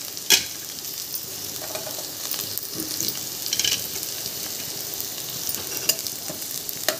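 Onion and coconut sizzle in hot oil with a steady hiss and crackle, punctuated by a few sharp spatula clicks and scrapes against the pan.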